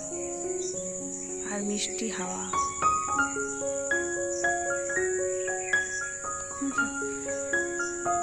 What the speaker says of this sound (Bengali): আর শুধু পাখির ডাক আর ঝিঝির ডাক